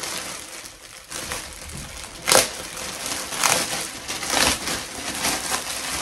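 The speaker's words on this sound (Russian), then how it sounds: "Так, они не открываются, а рвутся пакеты." Plastic packaging bags holding clothing from an online order are torn open, giving a series of crinkling, ripping bursts at moderate volume that grow busier toward the end.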